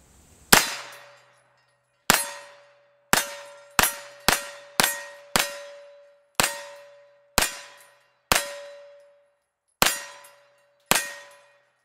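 Eleven 9mm pistol shots fired at a Halloween pumpkin outdoors in Murphy, NC, each a sharp loud crack with a ringing tail, spaced unevenly about a second apart with no talking.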